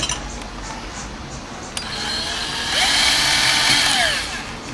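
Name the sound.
drill bit removing powder coating for zerk fitting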